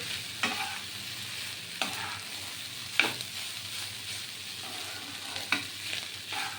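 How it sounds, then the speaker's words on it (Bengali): Fried rice sizzles softly in a pan while a spatula scrapes and knocks against the metal every second or so, a close, fairly quiet stir-fry with no voices. "দেখছেন কেমন সুন্দর ফ্রাইড রাইস হচ্ছে"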